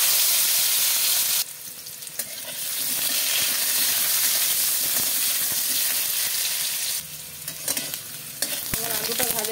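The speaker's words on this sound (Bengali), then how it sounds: "আলুগুলোকে আমি ভেজে তুলে নেব।" Potatoes fry in hot mustard oil with a pinch of turmeric in a heated pan, a loud steady sizzle and hiss broken by stirring scrapes, with no talking.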